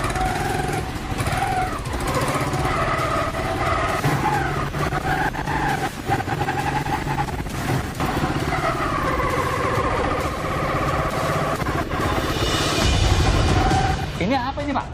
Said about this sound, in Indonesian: saya ingin mencoba motor ini